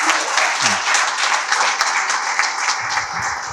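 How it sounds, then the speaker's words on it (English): A seated audience claps after a business research colloquium talk, a loud, lively burst of many hands with individual claps standing out, and a few brief voices murmuring beneath it. "Can we clap"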